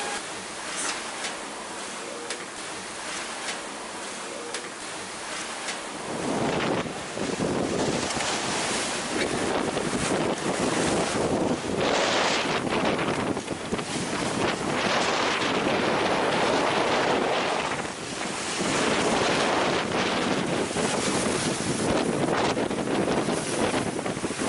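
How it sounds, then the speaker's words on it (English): Strong wind buffeting a sailboat in rough seas on a passage to the Bahamas, starting quieter and then becoming a loud, continuous roar of wind and breaking water with no let-up. "Wind is up double what was forecast on predict wind."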